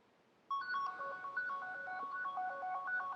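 A phone rings with a melodic electronic ringtone during a test call over an Osmo cellular network. The tones are clear and steady, start suddenly and repeat for several seconds with no talking.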